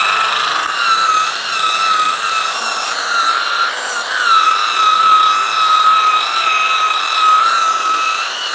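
A steady high-pitched mechanical whine of a polishing machine buffing the body of a Nissan Livina X-Gear car runs continuously, with slight wavering in pitch, close and loud, no voices.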